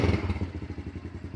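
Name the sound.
Honda CRF110 dirt bike engine starting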